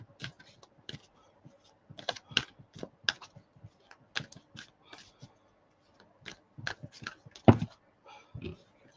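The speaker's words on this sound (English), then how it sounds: "Okay, so giving them a good shuffle." Astrology reading cards being shuffled by hand up close, giving quick crisp flicking and riffling clicks in irregular bursts with short pauses between them, no talking.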